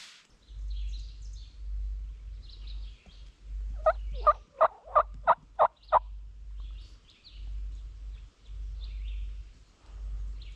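Wild turkeys gobble in the open: a fast burst of about six loud, rattling gobbles in quick succession, standing out against a low steady outdoor hum and faint distant bird calls.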